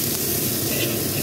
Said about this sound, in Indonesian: kita tumis bawang putih sama bawang merah, tumis sampai dengan harum